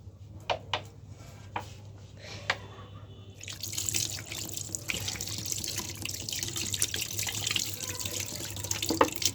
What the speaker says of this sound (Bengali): আমি হাতটা ধুয়ে একটু পানি দিয়ে দেব